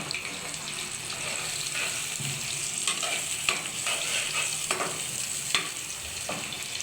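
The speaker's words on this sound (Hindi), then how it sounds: "मिर्चें फ्राई करके निकाली है, फिर मैं डालूंगी प्याज" Onions frying in a pan of oil after chillies were fried gives a steady close sizzle throughout, with intermittent scraping and stirring clatter.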